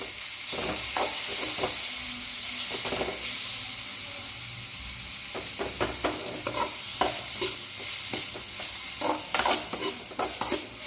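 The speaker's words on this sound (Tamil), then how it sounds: "நல்லா வணக்கி விடுங்க." Tomato and chili powder sauté in a pan for macaroni pasta: a continuous oily sizzle and hiss, broken by irregular sharp scrapes and clicks of a spoon stirring, grows busier toward the end.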